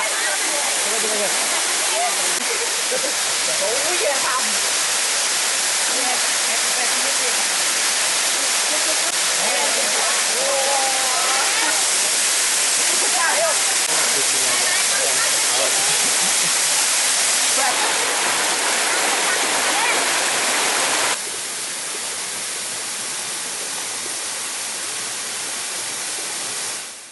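Second waterfall at Bukit Gantan in Musi Rawas, about 15 metres high, roaring as a loud, continuous rush of falling water close by, with faint voices under it and a slight drop in level near the end.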